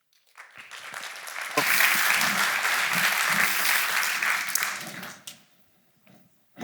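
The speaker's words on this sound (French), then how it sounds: "on applaudit Aurel Termini" An audience applauds a presenter introducing the Nonos Food project at an ecological grant event in Gland; clapping swells, holds steady for several seconds, then quickly dies away to near silence.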